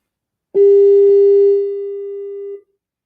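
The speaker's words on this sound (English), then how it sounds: "the line is ringing." A single steady electronic ring tone sounds for about two seconds over a phone line, clear and close, then cuts off into silence.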